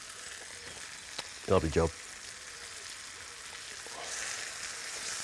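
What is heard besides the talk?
tomatoes and wine sizzling in a cooking pan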